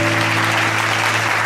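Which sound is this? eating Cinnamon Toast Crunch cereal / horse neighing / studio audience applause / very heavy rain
studio audience applause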